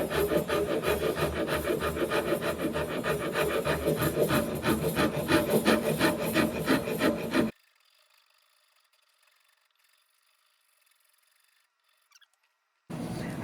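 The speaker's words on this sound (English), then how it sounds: "that's a pretty aggressive rasp" A coarse, aggressive rasp files wood on a guitar-building workbench in fast rhythmic strokes for several seconds, followed by near silence and a brief resumption of scraping at the end.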